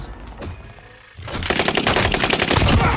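Automatic gunfire in an online shooter game erupts after a quieter second, a fast, dense volley of rapid shots that continues loudly to the end.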